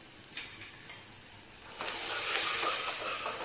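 Salt, Kashmiri chili powder and turmeric stirred into vegetables frying in a pan for dim bhujia: a soft sizzle that swells into louder, busier crackling with scraping stirs partway through.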